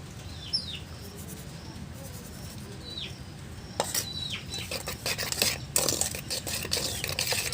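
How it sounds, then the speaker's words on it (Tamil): Flour and sugar with ground cardamom are stirred together in a bowl for chocolate cake batter, with scraping and clinking starting partway through while birds chirp faintly in the background. "நல்லா கொஞ்சம் கூட கட்டி இல்லாமல் நல்லா கலந்துக்கோங்க"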